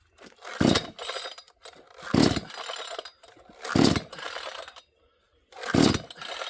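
A 6220-class chainsaw being pull-started with the choke out after refueling: four loud, evenly spaced bursts of about half a second each, with quieter rattling between them and a short silent gap near the end.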